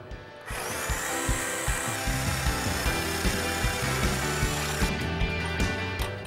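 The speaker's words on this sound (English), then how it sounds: "We're going to slice the tailpipe here so it comes off in two pieces." A power tool cuts through the exhaust tailpipe of a Jeep Wrangler TJ, a loud, close, continuous grinding whine with rhythmic pulsing strokes that runs for about five seconds and then cuts off.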